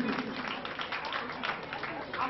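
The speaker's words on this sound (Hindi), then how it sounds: "तालियां बजती रहे" Audience clapping at a school prize distribution ceremony and cultural programme in Muzaffarpur, a dense, continuous patter of many hands that runs throughout while a voice talks over it.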